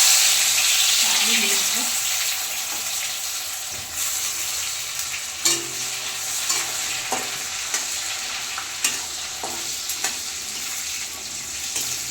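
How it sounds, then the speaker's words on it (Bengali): Washed raisins frying in ghee and white oil, giving a bright, dense sizzle that starts loud and settles into a steady hiss with occasional small pops and utensil taps near the pan. "ঘি দিয়ে দেবো সাদা তেলের মধ্যে ধুয়ে রাখা এই যে কিশমিশ ভেজে নেবো"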